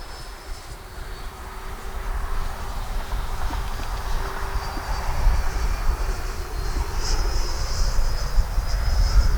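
An E-flite Viper 90mm RC jet cruising overhead at half throttle gives a steady, fairly distant ducted-fan whine over outdoor wind rumble, holding even throughout with no voices.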